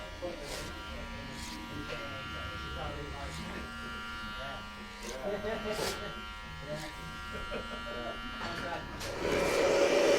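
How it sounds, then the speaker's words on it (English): Electric hair clipper blending weight out of a haircut with a clip comb in a barbershop, a faint steady buzz running under continuous talk, growing louder near the end. "we're just going to work out that little bit of weight now with a clipper and a clip comb"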